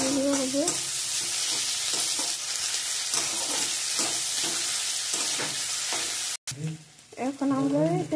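Potatoes frying in a pan for a chowmein dish, giving a loud, steady sizzle with rhythmic stirring scrapes throughout and a brief tonal sound at the start and near the end.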